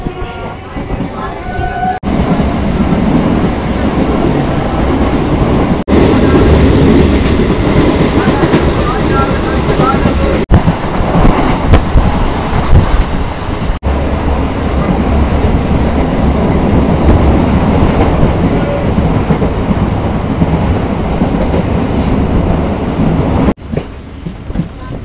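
A local train on the Eastern Railway pulls out of Kakra Mirzanagar station, its loud, steady rumble and rattle of carriages continuing close by for most of the stretch, with a person talking over it.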